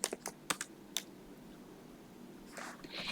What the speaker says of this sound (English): I just go to Etsy search and I type in the product that I'm looking for